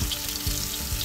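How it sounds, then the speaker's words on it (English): Ground chicken sizzles hard in a cast iron wok alongside shallots for Thai larb gai, a close, steady frying hiss with no voices. "I'm going to go ahead push those shallots to the side of the wok so I can put the chicken right in the middle here."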